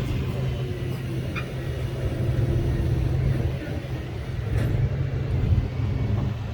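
A car's engine rumbles low and steady nearby, a continuous deep drone that swells slightly toward the end, with faint voices in the background.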